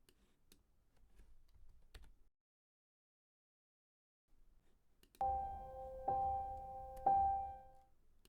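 A computer keyboard types a time value into a text field, with a few scattered keystroke clicks early on, then a short pause before three bright chime tones ring out in sequence.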